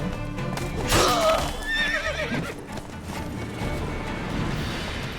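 A horse whinnies loudly with a rising, warbling neigh in the video game Witcher 3: Wild Hunt, followed by continuous rough trampling and clattering noise, like hooves and scuffling.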